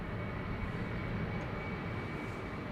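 An Embraer 190 jet departs Amsterdam Schiphol, its engines giving a brief, steady, fairly faint broadband roar with no change in level.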